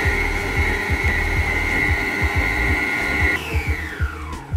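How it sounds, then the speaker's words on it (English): Electric stand mixer blending dry bao bun ingredients in a mixing bowl: a steady loud motor whine with rhythmic thumping beats as the beater turns, then a pitch drop as it slows near the end. "I'm gonna get it onto my mixer. And then I'm just gonna quickly mix all those together."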